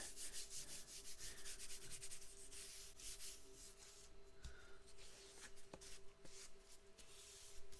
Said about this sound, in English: wiping down the edges to minimize the amount of soot and dirt that gets everywhere